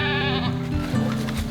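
Goats bleat up close, one long wavering cry that breaks into a rougher second call, loud and clear with no talking over it.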